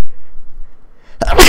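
A single close, loud sneeze bursts out after a quiet stretch with only faint murmurs.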